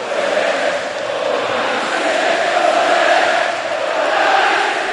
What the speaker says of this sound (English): The crowd demanded justice for the 96